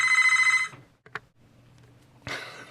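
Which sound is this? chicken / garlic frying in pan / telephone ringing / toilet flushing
telephone ringing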